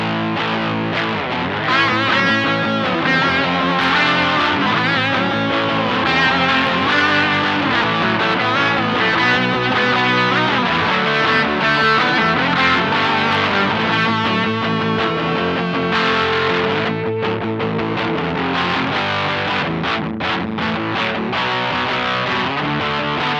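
Loud, continuous electric guitar through an Electro-Harmonix Hot Tubes overdrive pedal, tone maxed for gritty 70s-style distortion, playing crunchy chords and riffs throughout with no talking.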